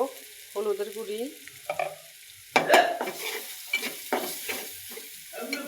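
Whole spices fry in a hot pan for a chapila fish do-piaza, giving a steady close sizzle with bursts of scraping and stirring and a sharper crackle midway, while a voice briefly makes sounds over it.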